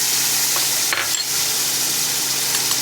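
Ginger-cumin paste and ripe green chillies go into hot oil in a pan, making a loud, continuous close sizzle with a brief burst of spatter and stirring near the start.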